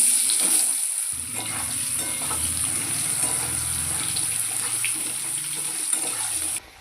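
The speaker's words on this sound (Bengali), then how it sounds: "কড়াইতে কালো জিরে ফোড়ন দিয়ে আমি সামান্য একটু হলুদ দিয়ে আলুগুলো ভেজে নেব" Potatoes frying in a wok of oil with black cumin seeds and a little turmeric, a steady close sizzle and crackle with occasional stirring scrapes, running throughout and cutting off abruptly at the end.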